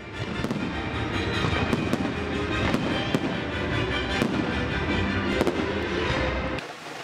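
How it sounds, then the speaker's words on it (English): Continuous fireworks at the Feast of Saint Alfio in Trecastagni crackle and pop in dense bursts, with sharper bangs scattered throughout, ending abruptly. "fireworks"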